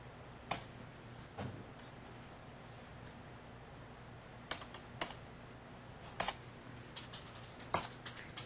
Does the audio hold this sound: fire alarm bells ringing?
no